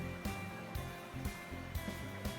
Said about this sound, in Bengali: ওই তেলে আমি এখন দিয়ে দিচ্ছি নুন হলুদ মাখিয়ে রাখা আলু